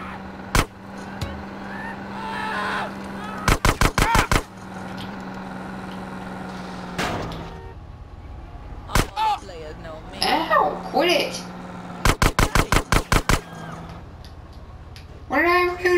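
Gunfire in GTA San Andreas, several rapid bursts of sharp, loud shots in tight clusters separated by pauses, with a running vehicle engine and a voice speaking in between.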